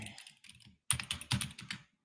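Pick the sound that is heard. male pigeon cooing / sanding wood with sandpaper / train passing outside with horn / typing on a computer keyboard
typing on a computer keyboard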